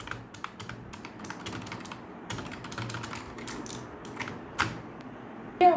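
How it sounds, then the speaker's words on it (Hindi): Typing on a Razer Huntsman 60% mechanical keyboard: a steady run of crisp, close key clicks with no voice, ending on a louder clack. "Guys, here is the keyboard."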